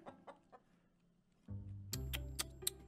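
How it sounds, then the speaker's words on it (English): Minecraft chickens cluck in short scattered bursts, faint at first, then louder and closer over a sudden background hum in the second half. "I hear more chickens around here."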